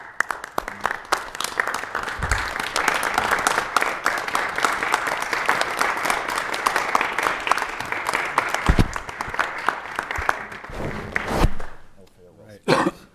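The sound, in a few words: city council meeting audience applause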